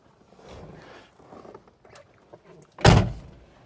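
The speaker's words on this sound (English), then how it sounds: "Door is closed all the way." A car door slams shut on a 1964 two-door wagon fitted with Ridetech suspension: one loud, close, solid thunk near the end, after quieter rustling and handling sounds.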